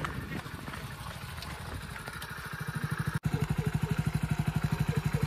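A motorcycle engine on a learner's bike speeds up as the clutch is let out. A rough, muddled idle gives way to a strong, steady chugging beat of exhaust pulses, close by and without talk.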